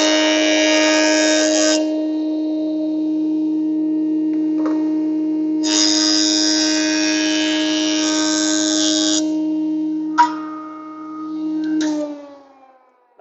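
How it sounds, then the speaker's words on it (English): A jointer planes the edge of a walnut drawer front, a loud steady machine whine with harmonic tones, swelling in two long cutting passes before spinning down near the end, with no talking. "take this and just buzz off this back edge on the joiner a little bit and knock that off"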